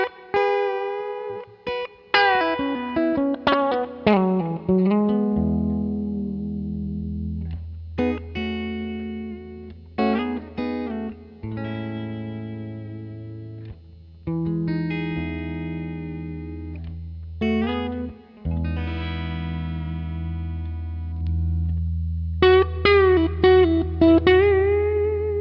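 Electric guitar through the combined John Mayer Archetype amp plugins, clean picked notes and chords with some chorus and reverb, moving phrases with sustained bass notes, steady and close, no talking.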